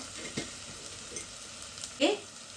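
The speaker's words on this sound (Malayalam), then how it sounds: "ഇനി ഗരം മസാല നമ്മൾ നന്നായിട്ട് ഒന്ന് വഴറ്റിയെടുക്കാം" Garam masala sautéing in a pan for Kerala-style pepper chicken, a soft steady sizzle with faint stirring scrapes and a slightly louder clink of a spoon near the end.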